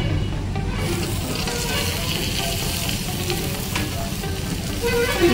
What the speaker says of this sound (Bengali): পেঁয়াজের সঙ্গে এটাকে মিনিট 5 মতো হালকা আঁচে ভেজে নেব।